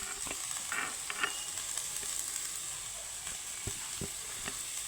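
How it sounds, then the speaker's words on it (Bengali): Chopped capsicum, tomato and chili are stir-fried with onion in a pan for a broken-wheat dish, giving a steady, close sizzle broken by occasional spatula knocks and scrapes. "সবগুলো সবজি আমি সুন্দর করে আমি নাড়িয়ে চাড়িয়ে একটু ভাজা ভাজা করে নেব"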